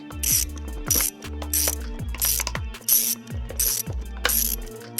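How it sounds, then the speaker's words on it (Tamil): A screwdriver ratchets in a steady repeated rhythm while removing screws from a device, the clicks close and clear with no talk. "நம்ம எல்லாம் ஸ்க்ரூ ரிமூவ் பண்ணிவிட்டு உள்ளே எப்படி இருக்குன்னு பார்த்துடலாம்."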